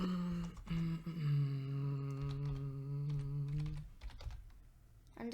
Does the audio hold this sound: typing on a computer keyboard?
yes